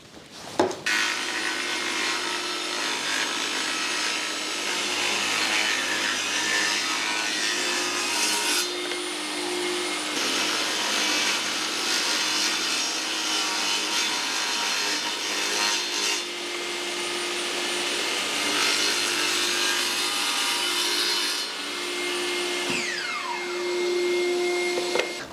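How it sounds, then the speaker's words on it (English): A table saw runs steadily while ripping cherry wood into 16mm square stock for dowels, making a loud, continuous whining roar that shifts slightly as the blade bites, then dips near the end and comes back. "So we're just going to run, like I said, through the table saw and cut a perfect square piece of 16mm stock."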